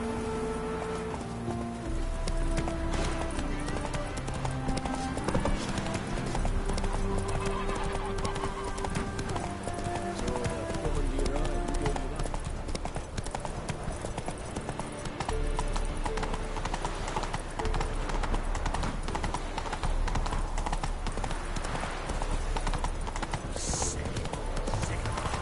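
Roach the horse gallops in a video game, with continuous rapid hoof clip-clops over a busy game soundtrack and occasional voices.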